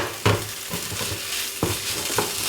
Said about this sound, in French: Là, on mélange tout ça.